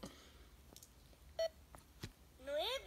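A few short electronic keypad beeps from a toy calculating phone sound sparsely and quietly, followed by a voice talking near the end.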